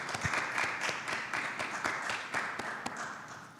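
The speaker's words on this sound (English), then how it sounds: "So let's give a round of applause." An audience claps after a presentation at a visualization conference, a steady patter of many hands at moderate level that fades slightly toward the end.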